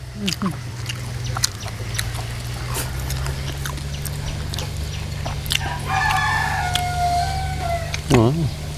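Domestic chickens in a rural Thai yard, with a rooster crowing a few times clearly toward the end and hens clucking, over a steady low hum and nearby talking.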